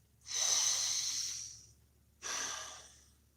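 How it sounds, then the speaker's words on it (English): A person takes a long, deep inhalation followed by a shorter second breath, both close and clear with no talking. "Let's do this. Breathe."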